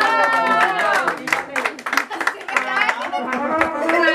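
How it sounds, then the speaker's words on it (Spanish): Audience clapping at a quinceañera with mariachi, moderate and uneven hand claps from a small crowd, mixed with voices and lingering musical tones nearby. "Un aplauso para"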